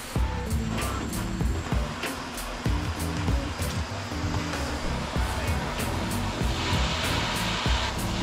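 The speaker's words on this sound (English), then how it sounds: "You want to torch up the outside" Propane torch heating the outside of a polyurethane control arm bushing, a steady close roaring hiss with rhythmic clanking or handling noises layered over it throughout.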